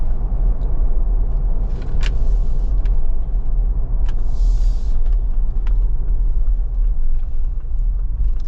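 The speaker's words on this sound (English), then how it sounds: "Get quite a bit of tire noise. I mean, it's got 37s." A 2025 Ford Bronco Raptor on 37-inch tires rolls along with a loud, steady low road roar and rumble filling the cabin, with a few faint clicks over it.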